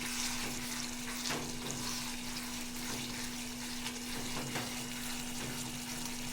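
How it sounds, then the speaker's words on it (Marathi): Chicken sukka sautéing in a pan, giving a steady, continuous sizzle and crackle with a faint constant hum underneath and no talking. "चिकन सुक्का आपण छान असा परतवून घेतोय"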